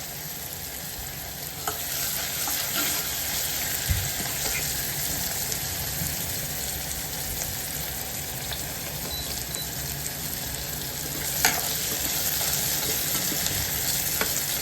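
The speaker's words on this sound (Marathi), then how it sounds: "तुम्ही पाहू शकता की कांदा शिजत आलेला आहे." Onion and garlic frying in a pan for veg dalcha, a steady close sizzle with occasional stirring scrapes, alone with no talk.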